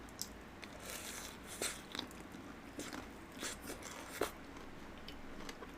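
Repeated crisp crunches of biting into crunchy fried chicken, close and fairly quiet, scattered irregularly over a soft background hiss.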